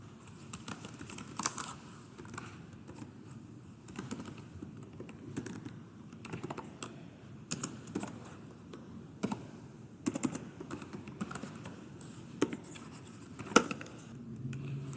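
Computer keyboard keys tapped while writing Verilog test bench code, a steady run of light clicks with a few louder key strikes, close and fairly quiet with no talking.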